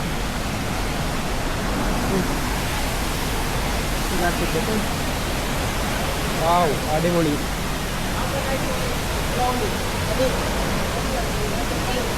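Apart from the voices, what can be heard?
Kawasan Falls waterfall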